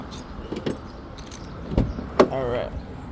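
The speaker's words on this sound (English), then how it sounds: "Grab my keys." Car keys jangle in a few short metallic bursts near a car, with door and handling clicks and a person's voice in between.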